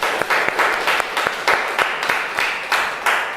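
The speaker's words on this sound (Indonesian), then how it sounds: "kita berikan tepuk tangan untuk kita semua" Classroom audience gives a round of applause, dense clapping that pulses in steady waves for several seconds with no talk.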